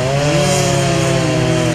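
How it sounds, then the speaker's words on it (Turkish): Chainsaws cutting down trees beside a hospital construction site in Adana, a loud close engine whine held at a steady pitch with a faint rising note, continuous and alone without voices. "onlarca ağaç polislerin yoğun güvenlik tedbirleri altında motorlu testerelerle kesildi"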